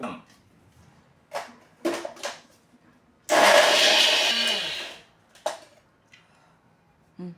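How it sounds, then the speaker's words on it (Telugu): Electric mixer grinder whirring as it grinds dried flowers into fine powder, one loud burst of about two seconds standing between stretches of talk. "ఇవన్నీ ఒక మిక్సీ దారిలో వేసేసుకుని దాన్ని మనం మెత్తగా పౌడర్ కింద చేసుకోవాలి"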